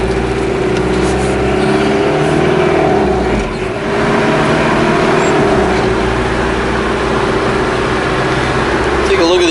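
A 1984 Mitsubishi 4x4 turbo diesel truck with a five-speed gearbox drives through an intersection, its engine a loud, steady drone heard from inside the cab, with a brief dip midway; someone talks over it.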